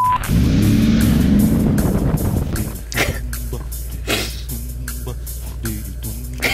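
A 2018 Mercedes-AMG G63 launches in a half-mile drag race, its engine roaring loud and close at first, then settling into a steadier drone with clicks and knocks as it pulls away.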